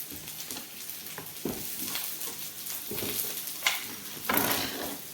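Eggplant sizzling as it fries in a pan for a stir fry: a steady hiss with crackles and a few louder spits, close and moderately loud, with no talking.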